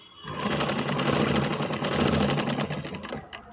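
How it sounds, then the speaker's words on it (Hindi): Sewing machine stitching along the edge of cotton cloth, a rapid mechanical clatter running steadily for about three seconds before stopping, close and loud. "एक सिलाई इसके ऊपर ले लेंगे ऐसे किनारे किनारे ऐसे"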